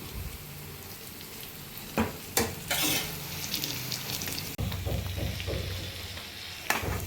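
Halved boiled eggs go into a pan of frying onions for an egg curry, raising a steady oil sizzle and crackle with a few sharper spits and stirring clatters, close and continuous, with no talk.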